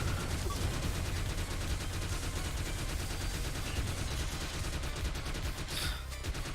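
Rapid, dense video game gunfire from an assault rifle mixed with C4 blasts in The Mummy Demastered, a constant loud stream of shots with a brighter burst near the end, no speech.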